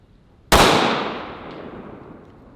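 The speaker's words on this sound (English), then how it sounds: "Really soft shooting compared to the last one." A single pistol gunshot from a compact concealed-carry handgun firing defensive ammunition, a sharp loud crack with a long fading outdoor tail, standing alone with no talk.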